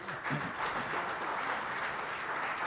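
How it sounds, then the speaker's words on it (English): Audience applause for a young mountaineer who climbed the Seven Summits at 17, a fairly soft but continuous spread of clapping from a crowd, steady for the whole stretch. "I think that's a call for a round of applause"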